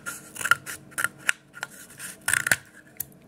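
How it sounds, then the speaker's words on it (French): Scissors snip through a paper roll, cutting it in two with a series of crisp, close cuts in irregular bursts, then a final few snips, no talk. "on va prendre une paire de ciseaux et on va venir découper ici en 2"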